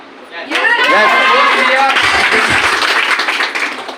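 An event audience claps and cheers together, loud sustained applause from a crowd filling the room, starting abruptly and continuing steadily throughout.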